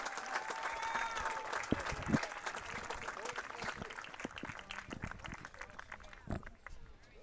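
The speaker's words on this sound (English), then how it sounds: "a big round of applause for your finalists" A crowd applauds steadily for several seconds at a senior all-star game as finalists are announced, clapping fading slightly toward the end, with a few louder claps standing out.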